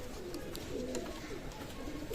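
Mysore Nila pigeons cooing softly in a loft, several low, rolling coos repeating under a steady background hiss, with no voices.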